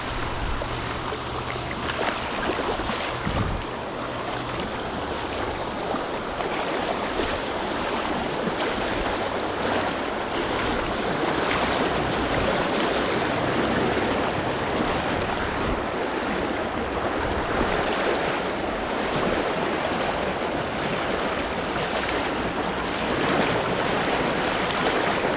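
A creek in Arkansas flows steadily while wind gusts across it, making a continuous broad rushing wash that stays even and fairly loud throughout, with no voices.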